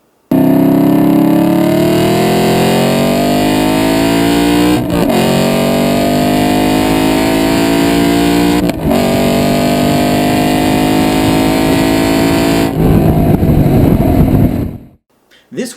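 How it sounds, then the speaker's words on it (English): A manual 2007 Aston Martin V8 Vantage on a track day, its engine revving loud and close through rising gears, with two quick shift dips mid-run before the revs fall away and cut off near the end. "Listen to the engine in this video so you can hear how quick the shifts can be."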